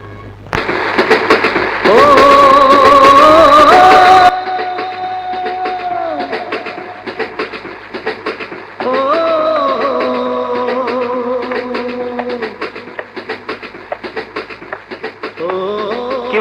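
A passing train in an old Bangladeshi film scene: a loud, rumbling roar with sustained whistle-like horn tones. It surges at the start, eases, then swells again later, with no one speaking.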